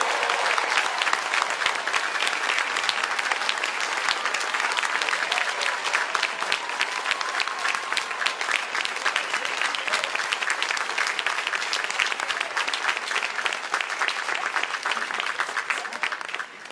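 At a Fourth of July naturalization ceremony in Seattle, the audience gives sustained, even applause, a dense, steady roar of many hands clapping for a long stretch before tapering at the end.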